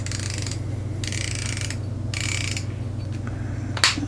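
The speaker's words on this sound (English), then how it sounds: "you can probably hear that that's really nice audible clicks there" Locking elevation turret on an AR-10 rifle scope turned back and forth, giving several close, crisp bursts of ratcheting clicks with short pauses between them and one sharper snap near the end, with no talk.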